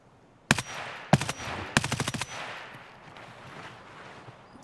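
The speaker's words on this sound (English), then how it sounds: "Judging by the sound, it was M4A1." Suppressed M4A1 rifle fire in Escape from Tarkov comes first as a single crack, then a short burst, then a longer rapid burst. The shots are loud and close, and a fading echo follows them.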